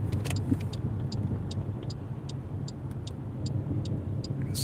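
A car driving on a cold, rainy day with a low engine and road rumble, over which sharp, brief rattling clicks repeat at irregular intervals, roughly every third of a second to half a second.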